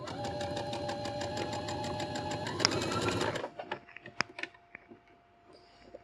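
A domestic sewing machine runs a classic straight stitch along a hem, a fast even mechanical chatter for several seconds that stops abruptly, followed by faint clicks and handling noises.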